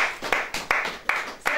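A church congregation claps during a worship service, a handful of sharp rhythmic clap bursts repeating at an even pace, fairly close and without talk.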